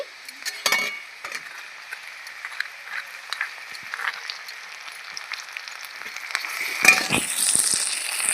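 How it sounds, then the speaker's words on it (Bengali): Ground spice paste goes into red-fried onions in a pan for a duck egg curry, giving a sharp sizzling rush with spoon scrapes and clinks against the metal, growing louder toward the end. "পেঁয়াজটা দেখুন লাল করে ভাজা হয়ে গেছে বেটে রাখা মশলাগুলো আমি এখন দিয়ে দিচ্ছি"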